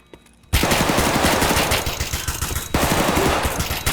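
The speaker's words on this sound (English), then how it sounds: "he was shooting a semi-auto gun and that he was missing a lot" Semi-automatic gunfire in the video game Escape from Tarkov: loud, close rapid shots fired in a dense string after a brief quiet start, with a short pause before more shots follow.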